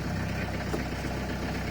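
A camper van engine idles at a steady, continuous low rumble, close and unchanging throughout, with no voices over it.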